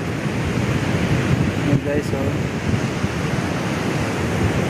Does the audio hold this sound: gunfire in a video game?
no